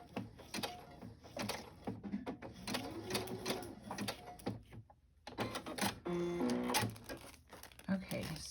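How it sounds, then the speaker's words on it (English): A sewing machine stitches through a pattern paper pocket in rapid mechanical bursts, close and busy, pausing briefly midway before resuming, with a voice talking alongside. "I also wasn't sure how it would sew, but it's sewing fine."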